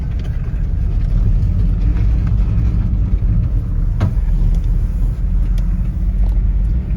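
A car driving around the Japanese countryside gives a constant, close cabin rumble with low road and engine drone, broken only by a few faint clicks.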